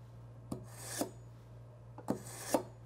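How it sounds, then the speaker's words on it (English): A kitchen knife is drawn through the coarse stage of a Wüsthof Universal manual sharpener, making two pairs of short, dry rasping strokes at a steady pace against a faint low hum. "pull the knife through the coarse stage to reset the edge and then hone it again with the fine stage"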